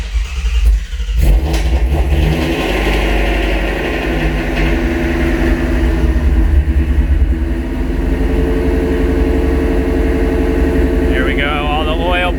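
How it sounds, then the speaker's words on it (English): A car engine turns over and catches, then revs and settles into a loud, steady high idle, with a voice speaking over it. "So I'm getting ready to start the car up here."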